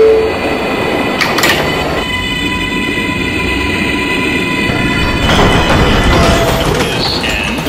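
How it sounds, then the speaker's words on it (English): A Pelham Bay-bound 6 Express subway train from a video game runs loud and close. Steady rumble and rail noise carry through, with clattering bursts near the start and again toward the end. "This is a Pelham Bay Taft-bound 6th Express train."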